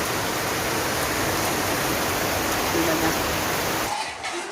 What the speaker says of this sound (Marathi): पाऊस पडते दिसते का तुम्हाला